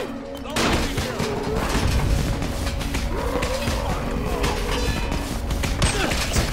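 Steady gunfire in Dying Light, with repeated shots over a loud, dense game mix and some rumbling and scraping noise underneath.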